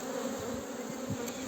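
A honeybee colony buzzes inside an open hive, a dense close hum of many bees, steady and unbroken for the short moment, with no talking.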